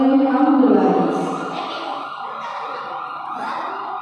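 An ambulance siren wails loudly with a wavering, rising and falling tone that continues steadily throughout, with a voice underneath.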